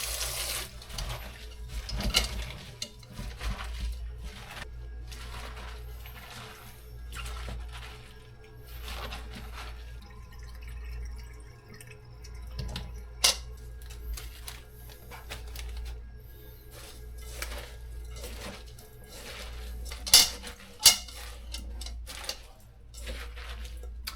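Kimchi cabbage being mixed by hand in a bowl gives off irregular wet squelches, clicks and rustles, close and fairly quiet, with sharper knocks now and then and no talking.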